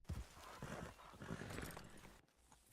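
A horse walking with hooves clopping in the video game Red Dead Redemption, a run of soft uneven hoof beats at moderate distance, briefly interrupted near the end.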